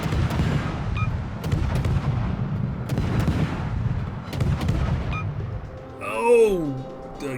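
Destroyer guns firing in the World of Warships video game, a tier-10 Pan-European destroyer, a dense barrage of booming shots and impacts over a continuous rumble, ending in a rising game sound effect.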